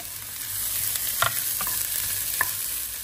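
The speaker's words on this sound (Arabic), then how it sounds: "كنديروا واحد المقيله فيها شويه الزيت وكنرموا الصلاه ديالنا" Chopped onion frying in a little oil in a pan, a steady soft sizzle running throughout with a few brief louder clicks or stirs, no talking.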